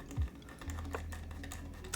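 Keys clack on a small custom mechanical computer keyboard in a light, steady patter of close taps, with a low hum running underneath and no speech.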